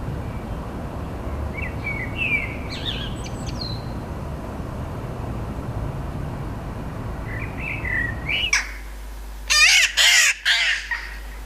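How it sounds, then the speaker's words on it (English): Harsh, clipped jackdaw calls, a few faint ones early over steady outdoor rumble, then a loud close burst of several sharp calls near the end. "That was the sound of a jackdaw."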